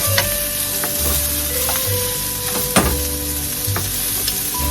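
Onions sautéing in a pan for macaroni soup make a steady, close sizzle, with a low background hum and a few sharp utensil scrapes and clinks from stirring.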